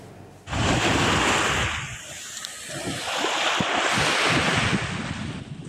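Surf and wind at Tanjung Pesona beach in Bangka: a loud, steady wash of breaking waves and gusting air begins abruptly, with rumbling buffets from wind on the microphone and no voices.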